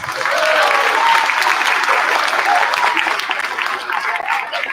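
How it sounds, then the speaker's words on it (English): Steady, full applause from a crowd at a first and second grade school concert continues throughout, dense and close, with a few faint chuckles mixed in. "Big round of applause for yourselves."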